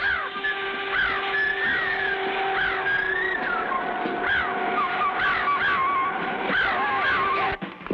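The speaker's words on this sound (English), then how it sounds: "A giant bird!" A giant bird in a vintage animated adventure cartoon gives harsh, repeated cawing cries over a steady droning background, loud and continuous, with a few brief voices beneath.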